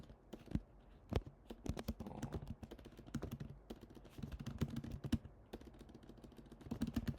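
Computer keyboard being typed on, close and fairly quiet, with irregular bursts of crisp key clicks and short pauses between them.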